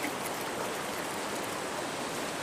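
Water from the Cube Creek water extraction device pours steadily into a bucket, a dense, continuous rushing splash that stays even and fairly soft throughout with no voices over it.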